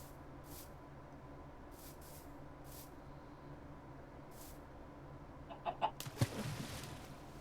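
Chickens in modded Minecraft, a few short clucks from the game's birds late in the moment, faint and sparse against a quiet background hum, with brief soft taps earlier and no talk.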